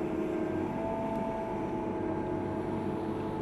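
Case Quadtrac 600 tractor engine running steadily while cultivating salad beds in auto steer, a constant broadband rumble with low drone and no clear rise in pitch.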